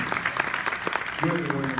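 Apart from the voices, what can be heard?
audience applause for elected officials at gala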